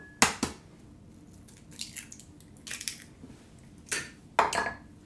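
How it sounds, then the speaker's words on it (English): Eggs cracked one by one into a separate container before going into a gluten-free biscotti batter: several sharp, close taps and cracks spaced apart, with faint wet squishing between them in a quiet kitchen. "cracking my eggs in a separate container before adding it into the bowl"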